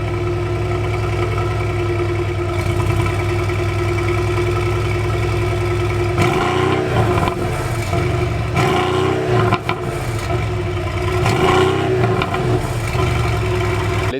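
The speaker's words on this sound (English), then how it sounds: "let's take a listen how the exhaust note sounds." A 2020 Mercedes-AMG GLC63 S Coupe with a 4.0-litre biturbo V8 and quad exhaust pipes: a deep, loud, steady idle, then a series of sharp revs that rise and fall close by.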